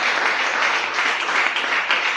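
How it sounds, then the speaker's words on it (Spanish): Dense, steady applause from a church congregation fills the space, continuous and fairly loud without a break. "Aplaude al Rey."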